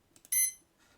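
A small electronic beep button sound effect, one short bright tone lasting a fraction of a second, preceded by faint ticks and followed by a quieter fading tail.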